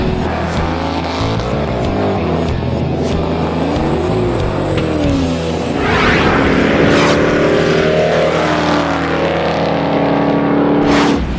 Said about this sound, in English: This is a real-deal Z28, complete with the 302 V8 engine under the hood and 4-speed.